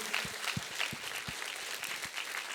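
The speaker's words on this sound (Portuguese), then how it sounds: "Você vai dar uma salva de palmas a Jesus" A church congregation claps in praise, a steady patter of many hands with a few sharper individual claps standing out, fairly quiet and without talk.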